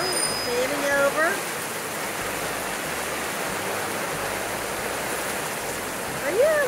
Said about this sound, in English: Oh, it's a little thunderstorm.